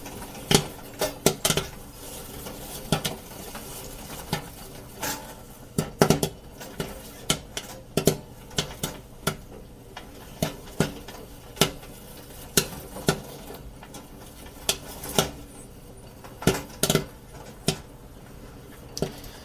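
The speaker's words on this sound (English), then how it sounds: "you can hear the popcorn hitting the tray" Great Northern antique-style popcorn popper, with kernels popping and hitting the metal tray in irregular sharp clicks and taps, scattered bursts over a faint steady hum of the machine, close by.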